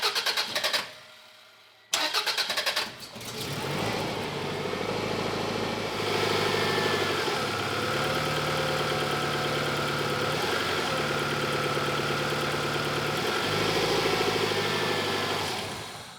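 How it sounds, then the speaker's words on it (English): A car engine, just repaired with a newly routed serpentine belt, cranks and catches after a short pause, then settles into a steady, close idle with a slight exhaust leak, its rhythmic low rumble continuing alone. "I started it up, and now my car doesn't sound like a diesel"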